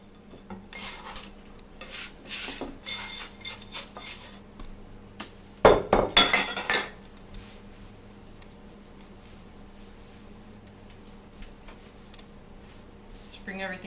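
Pizza dough is kneaded by hand on a work surface, giving soft rubbing and pressing sounds, then a short burst of louder thumps and slaps in the middle, with the faint drone of a quiet room.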